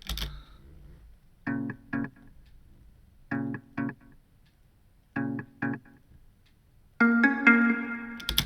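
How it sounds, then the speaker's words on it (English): Clavinet part from a recreation of a clav line, with bright reverb: three pairs of short funky stabs, then a sustained brighter chord bloom with a rich reverberant tail, played alone. "you can hear that bright reverb coming"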